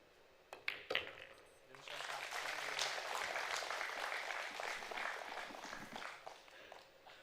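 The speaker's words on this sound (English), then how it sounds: "Big round of applause for the local girl." Applause at a women's 9-ball pool final in Pudong, China, a sustained wash of clapping from a crowd that swells after a couple of sharp ball knocks and holds steady for several seconds, with commentary over it.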